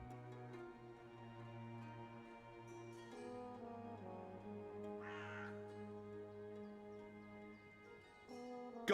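A bird in a video game caws in drawn-out, tonal croaks, repeated over several seconds against a quiet, sustained musical backdrop, fairly faint and with no talk.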